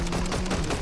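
Rapid automatic gunfire in the video game Fortnite, a dense loud stream of quick repeated shots throughout a brief burst.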